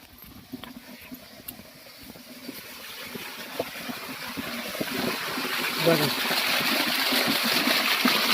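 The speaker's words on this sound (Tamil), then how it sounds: "தண்ணி இப்படி வருது" Water gushes and splashes from a 5 hp solar pump on a farm beside the Kaveri river, a broad steady rush that grows louder across the clip with some irregular sputtering beneath it.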